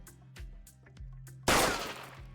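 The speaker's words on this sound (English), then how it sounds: "I'll play the gunshot sound effect." A single loud gunshot sound effect fires abruptly midway and rings out in a long noisy tail, following quiet rhythmic background thumps.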